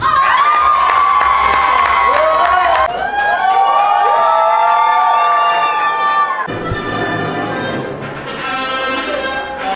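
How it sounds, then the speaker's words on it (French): Ululations and joyful cheering erupt at a wedding celebration, with high, wavering trills from many voices layered over a loud crowd and shouting, sustained throughout. "les youyous et les cris de joie déchirent l'atmosphère"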